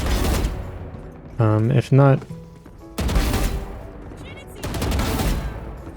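Rapid bursts of gunfire in a video game gunfight, sharp crackling volleys at the start and again in the second half, with a voice talking in between.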